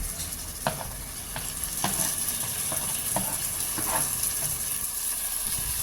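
Tomatoes sautéing in a pan for country chicken biryani, a steady close sizzle with repeated scraping stirs of a ladle cutting through at irregular intervals.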